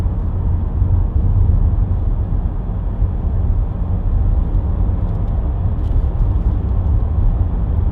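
Inside a 2014 Vauxhall Astra 2.0 CDTi ecoFLEX diesel cruising on a dual carriageway, a steady low road and engine drone fills the cabin continuously at even loudness, with no talking.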